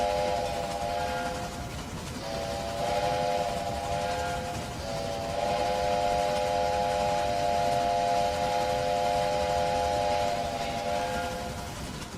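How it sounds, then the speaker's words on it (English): Steam locomotive whistle sounding in a railway video game, a steady multi-tone chime held for about two seconds, cut briefly, then blown long again over a constant rumbling train background. "I will always love the ability to sound whistle on these locomotives"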